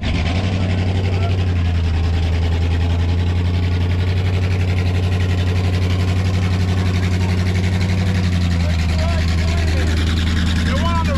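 A Busch Series NASCAR race car engine idles loud and close with a steady low rumble, pitch holding even and then dropping slightly near the end, with voices talking over it.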